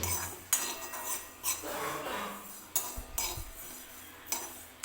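Garlic going into cumin roasting in a pan for Solapuri peanut chutney brings clinks of a metal spoon against the pan and soft scraping stirs, close and fairly quiet, with no voice over it.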